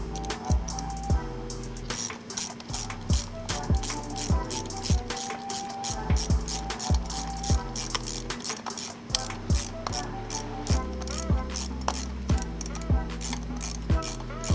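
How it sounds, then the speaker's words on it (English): A hand ratchet clicks rapidly and steadily, tightening a rear strut on a Mini Cooper Clubman, with a close, loud series of sharp pawl clicks and brief pauses between strokes. "I'm gonna go ahead and ratchet it back down"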